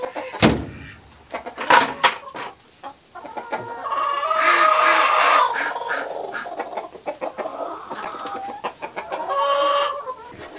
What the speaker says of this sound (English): There's not enough room in the nest boxes, because we have broody hens